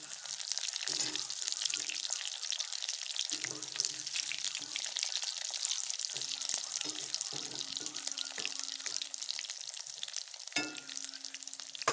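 Food frying in a pan over a lowered gas flame is slowly stirred, producing a continuous bright sizzle with occasional scrapes and faint low murmuring beneath it.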